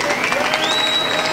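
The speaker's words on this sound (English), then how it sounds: "a big round of applause for that" A crowd at an outdoor Times Square rally applauds and cheers as a steady, dense wash of clapping, with a faint sustained whistle or tone rising above it.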